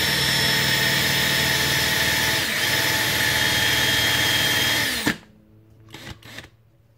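A power drill bores steadily into a brass Nerf Retaliator breech, a loud continuous whine close up for about five seconds before it stops abruptly, leaving faint handling noises.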